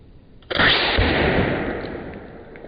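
Air rifle fired at a watermelon: one sharp, loud crack after a brief quiet lead-in, followed by a long noisy decay that slowly fades.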